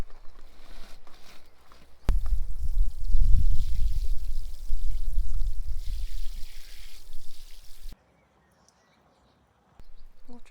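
Water is poured onto a log at a Scottish country house, a loud, rushing gush that starts suddenly, flows heavily for several seconds, then cuts off into near silence.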